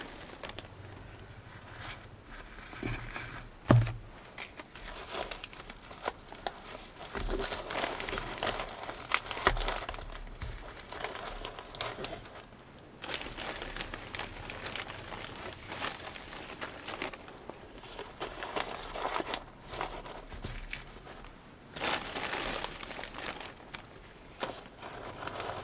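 Natural paper filler crinkles and rustles in irregular bursts as it is pressed and arranged inside a gourmet holiday gift crate, close up, with no talk.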